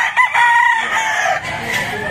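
A gamecock rooster crows at a fighting-cock market in Malasiqui, Pangasinan, a loud, close, drawn-out call that fills the whole moment, with the busy market noise around it.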